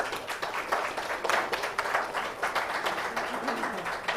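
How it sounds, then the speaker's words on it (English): A conference audience at a sustainability education plenary session applauds an award recipient being called to the stage, a continuous, fairly distant round of clapping from many hands. "Please, a huge round of applause for him."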